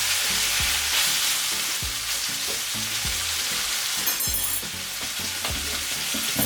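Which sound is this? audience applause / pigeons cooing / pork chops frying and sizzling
pork chops frying and sizzling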